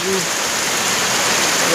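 Steady rain falls during a wet day outdoors, a dense even hiss of drops continuing throughout with a faint voice briefly audible at the start.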